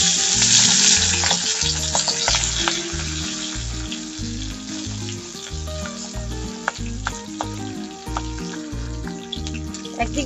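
Fish heads sputter and hiss in hot oil in a pan, making a loud, continuous sizzle with crackles and scattered pops, alongside a steady rhythmic pulsing backing throughout, with no voices.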